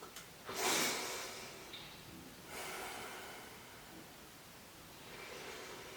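A person takes deep breaths while holding frog pose in a yoga flow, with a strong close inhale-exhale rush near the start and softer, slower breaths following against light background noise.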